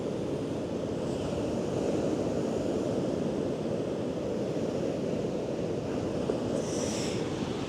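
Ocean waves roll in at sunrise as a constant low surf wash with some wind rumble, steady and moderately quiet throughout, with no voices.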